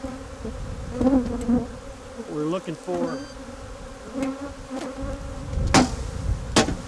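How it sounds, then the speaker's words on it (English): Honeybees swarm and drone steadily around an open hive during bee shaking, a dense close buzz with knocks and brief muffled talk over it. "taking bulk bees out of the hive and leaving plenty of bees in the hive"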